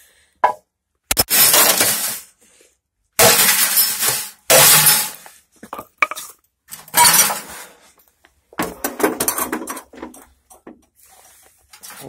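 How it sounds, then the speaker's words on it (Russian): Loud bursts of glass breaking and clinking as a hammer strikes a CRT television picture tube, in several separate rounds with short pauses between them, close up. "с помощью молотка аккуратно разбираем кинескоп, а все стекло перегружаем сюда"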